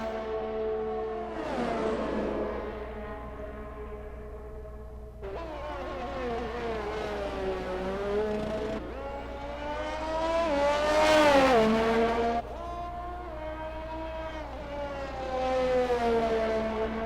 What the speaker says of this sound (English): First driver on circuit, Wild Nissan GTR in the Red Bull.